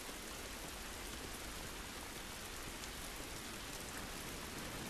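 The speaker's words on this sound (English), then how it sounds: "So, I personally think the rain is actually kind of helpful." Steady, dense rain pours without pause in the video game The Last of Us Remastered, a constant hiss of drops striking surfaces with no voices over it.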